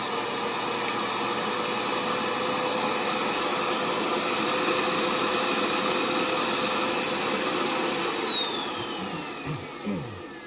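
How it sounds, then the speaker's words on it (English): A vacuum forming machine's vacuum motor runs with a loud, steady whooshing roar and a high whine on top, easing off toward the end. "what I'm gonna do is turn the vacuum on, clean this out, drop it down."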